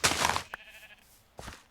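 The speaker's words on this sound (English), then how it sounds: "I hear a baa that's a little further away." A sheep bleats loudly in the video game Project Ozone 3, then a second, fainter bleat follows after a short pause.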